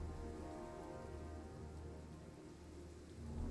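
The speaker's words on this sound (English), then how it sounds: "Oh, it's raining." Steady, dense rain falls in the video game Warhammer 2: Total War, a continuous hiss of drops on surfaces with a low rumble beneath, faint and unbroken with no talk.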